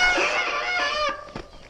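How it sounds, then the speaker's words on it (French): Glazed mountain bike brakes give a loud, piercing, high-pitched squeal that holds for about a second, then breaks into a few short, fainter squeaks. "les freins ont glacé, c'est ce qu'on appelle le glaçage"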